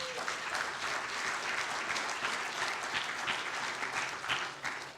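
Steady audience applause from a church congregation fills the whole stretch, dense and sustained with no pauses, a broad crowd of hands clapping at even loudness throughout.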